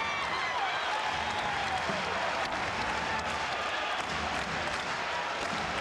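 Basketball arena crowd in Ames roaring and cheering loudly and steadily in the closing seconds of an Iowa State home win over Kansas, a dense, continuous wall of noise with a commentator's voice faintly woven in.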